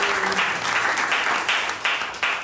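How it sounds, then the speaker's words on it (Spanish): Applause at a women's movement event, a short burst of brisk, fairly loud clapping from a small audience with a rhythmic, pulsing texture. "pido un aplauso para ella"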